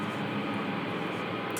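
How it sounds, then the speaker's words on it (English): Steady broadband hiss with gritty distortion from a Death By Audio Reverberation Machine reverb pedal pushed past its 100% setting, a continuous even noise wash with no talk. "It'll add some white noise and like grit and more distortion."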